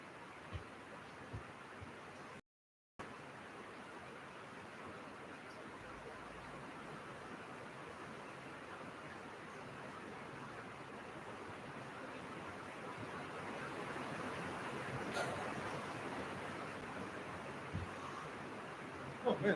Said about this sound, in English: Oh man, it's pouring.